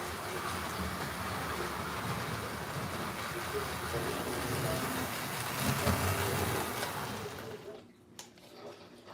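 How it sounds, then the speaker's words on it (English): A model Alco PA diesel locomotive B unit pulls passenger cars around a Christmas tree layout, giving a steady, close rolling rumble and rattle of wheels on track that fades out near the end. "Alco PA diesel locomotive in B unit with these passenger cars because they fit"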